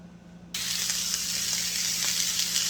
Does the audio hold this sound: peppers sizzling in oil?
yes